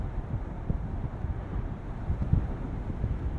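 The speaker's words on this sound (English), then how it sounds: "The wind buffeting that we're experiencing here at these speeds" Steady low wind buffeting around the open cabin of a 2023 Mercedes-AMG SL 63 at speed, a constant rumbling roar with irregular gusty thumps, fairly loud and unbroken, no voices.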